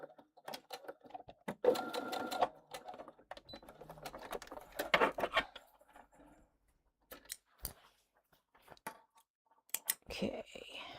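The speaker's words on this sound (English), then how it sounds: "I'm backstitching really well at the openings" A sewing machine backstitches at seam openings in short bursts, quiet close clatters separated by pauses, with snips and handling noises in between.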